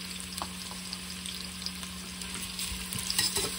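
Finely chopped onions frying golden in oil for a caramelized onion chicken korma, a quiet steady sizzle with soft stirring scrapes and a few faint clicks.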